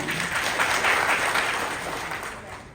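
Audience members at a health awareness talk break into applause, a fairly soft, continuous patter of many hands heard from a short distance, with faint voices mixed in.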